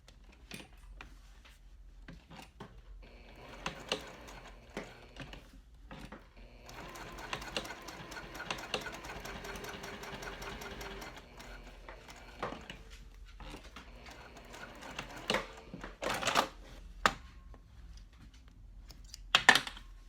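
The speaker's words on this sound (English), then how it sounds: "we're going to go to the machine. We're going to stitch just down the right side of this middle pocket" A sewing machine stitches down the side of a middle pocket on a cork trifold wallet in a faint, uneven run, broken by clicks and handling noises of the fabric.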